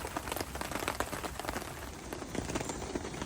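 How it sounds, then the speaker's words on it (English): Steady rain falls outdoors at a windy, low-pressure lakeside fishing spot, a dense continuous patter of drops close by with no voices. "Wind hacking in, rain coming down, low pressure."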